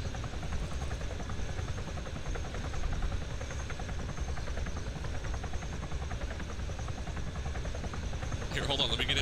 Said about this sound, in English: It's fucking helicopter. It's too goddamn loud.